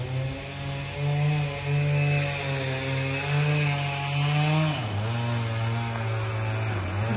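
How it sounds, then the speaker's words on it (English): A chainsaw cutting big oak logs drones steadily in the distance, its engine pitch dipping midway before holding again. "Somebody's still sawing."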